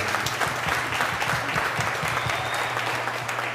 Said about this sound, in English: I just wanted to give a second round of applause